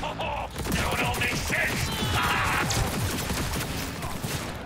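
Rapid bursts of gunfire in the video game Cyberpunk 2077, dense overlapping shots crackling continuously through the whole stretch, loud and close, with other game noises mixed in.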